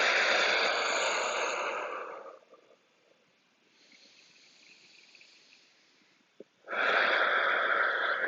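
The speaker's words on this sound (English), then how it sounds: "Breathe out through the mouth." A person breathing during a guided energy breathing exercise, a loud, close, airy exhale through the mouth, a quieter pause with faint breath, then another strong rushing breath.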